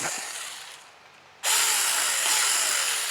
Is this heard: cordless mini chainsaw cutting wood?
yes